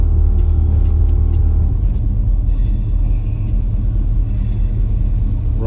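A 1965 Buick Riviera's engine runs at a steady idle, a loud, close, deep rumble with even low throb and no other sounds or voices.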